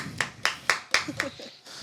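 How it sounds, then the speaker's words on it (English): A few separate hand claps ring out at a steady pace, fairly close, with voices murmuring faintly beneath them. "So let's clap it up for Brianna."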